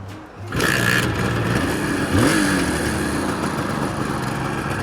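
A Suzuki GT380 three-cylinder two-stroke motorcycle with a carburetor fault kicks into life and settles into a loud, close, raspy idle with a brief blip of revs, no talking.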